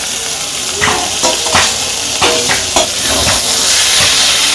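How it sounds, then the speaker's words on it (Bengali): Fried fish being stirred into water lily stems frying in a pan makes a loud, continuous sizzle with hiss and steam. Several sharp scraping and stirring strokes are close by, and no one speaks. "এখন মাছগুলো মিশিয়ে নিব।"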